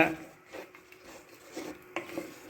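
Brinjal and curry leaves fry in a pan while a spoon stirs and scrapes against the metal, soft sizzling under intermittent clinks and scrapes, close and quiet.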